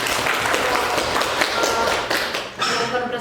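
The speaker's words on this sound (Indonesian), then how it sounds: "kita berikan tepuk tangan untuk kedua kelompok" A classroom of students claps for two presenting groups, a lively mix of many close hand claps and taps that thins out briefly toward the end.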